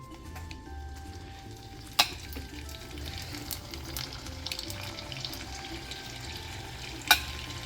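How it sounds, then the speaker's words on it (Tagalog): Turon, jackfruit and banana spring rolls, fry in oil with a soft, steady sizzle, broken by a couple of sharp clinks and a faint stirring clatter. "Okay, ipaprito na yung turon."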